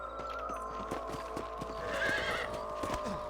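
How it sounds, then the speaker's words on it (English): Horse whinnying amid steady clip-clop of hooves while riding in the Red Dead Redemption video game, with a sharp neigh rising near the middle over continuous trotting hoofbeats and game ambience. "Get back on the horses and see what else"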